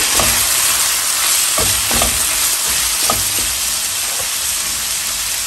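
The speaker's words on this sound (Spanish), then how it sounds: "Voy a dejar que se acitrone un poquito la cebolla" Onion and chiles fry in a pan with a loud, steady sizzle and hiss, broken by several sharp stirring scrapes and clacks of a utensil, close by and without speech.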